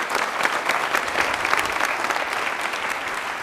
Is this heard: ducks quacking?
no